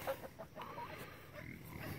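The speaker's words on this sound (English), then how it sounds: "silly chickens over there drinking their water" Chickens in a farm enclosure give a few soft, scattered clucks, fairly quiet against a faint outdoor background with no talking.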